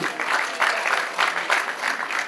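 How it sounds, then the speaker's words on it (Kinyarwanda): A crowd applauds steadily at a celebration where parents receive gifts, dense clapping holding for a couple of seconds with gentle swells and no clear voices. "Amashyi n'impundu."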